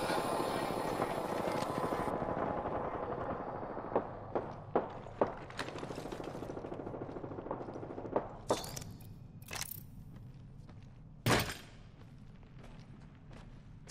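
Crypto's surveillance drone hums and whirs in the video game Apex Legends, a steady buzzing drone cutting out after a couple of seconds, followed by scattered thuds, footsteps and sharp clicks.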